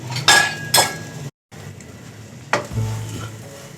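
Stuffed green chilies fry in a pan with a steady sizzle while a spoon stirs them and scrapes or clinks against the metal a few times, with a brief silent gap midway.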